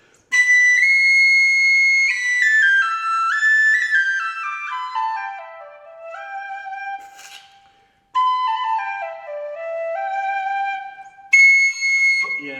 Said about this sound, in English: Lovely whistle, nicely in tune, very tactile, lovely to hold